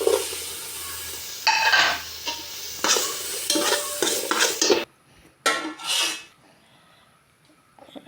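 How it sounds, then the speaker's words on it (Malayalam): Cashews and raisins fry in a pan, with a spoon stirring and scraping against the metal over a soft sizzle, then falling quiet before a few brief clinks at the end. "അണ്ടിപ്പരിപ്പ് ഒന്ന് ചുവന്ന് വന്നപ്പോൾ നമുക്ക് അതിൽ കിസ്മിസ് ഇട്ട് കൊടുക്കാം."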